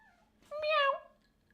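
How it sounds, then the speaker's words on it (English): A cat meows once at a window on a freezing day, a single close, drawn-out rising-and-falling call lasting under a second, with no other sound around it. "cat's just clawing his way in through the window"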